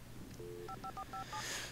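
Telephone keypad tones from the video game Alan Wake: a short series of about five crisp dialing beeps in quick succession, preceded by a longer tone, heard alone over a low background hum.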